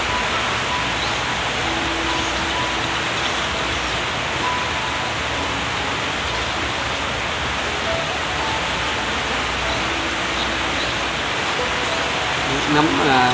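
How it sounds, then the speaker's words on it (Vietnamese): Heavy rain pours down steadily in the Mekong Delta countryside, a dense, unbroken roaring hiss filling the whole stretch at a constant loudness. "Lúc này mưa thôi, quá trời mưa luôn á cả nhà."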